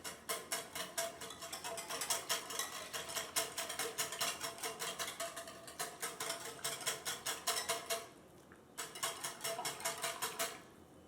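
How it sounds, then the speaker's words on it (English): A whisk beats yeast into a warm butter and milk mixture, fast rhythmic clicking strokes against the bowl, steady and close, pausing briefly near the end before resuming. "You're going to whisk the yeast into that mixture"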